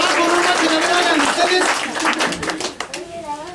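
Applause from guests at a child's third birthday party, a burst of clapping from a small crowd that fades, with voices and children talking over it.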